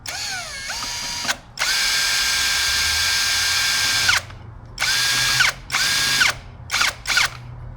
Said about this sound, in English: I'm going to screw that in roughly right here.